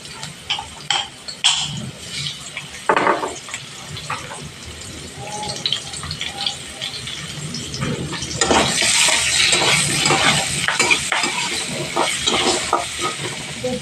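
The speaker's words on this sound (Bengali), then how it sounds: "এবার আলুগুলো আমি নুন হলুদ মেখে ভেজে নেব" Steady sizzling of potatoes coated in salt and turmeric frying in a pan, rising louder midway, with scattered clinks and occasional voices in the background.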